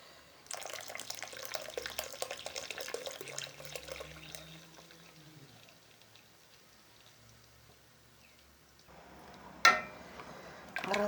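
Strained milk is poured into a pot for millet porridge, a gentle liquid splashing and trickling that fades into quiet, followed by a few sharp knocks near the end.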